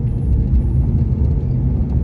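A car drives along a road, heard from inside as a loud, steady low rumble of engine and tyres that fills the whole moment without pause or voices.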